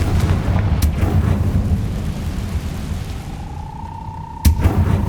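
A Confringo blast spell goes off in Hogwarts Legacy, with sharp explosive cracks over a rumbling, storm-like game ambience, a sustained tonal whine entering midway and a final loud burst near the end.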